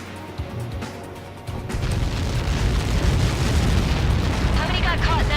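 A massive explosion rolls through an Ace Combat 7 air combat mission, a sharp burst swelling into a sustained, loud rumbling roar that fills the whole stretch.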